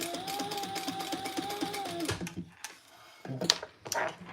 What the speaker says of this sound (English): I'm thinking as I'm sewing this together.